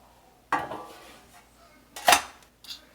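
Utensil clinking and scraping against a greased 9x9 Farberware baking pan while chocolate cake batter is mixed, two or three sharp metallic strikes separated by quiet pauses, close and alone.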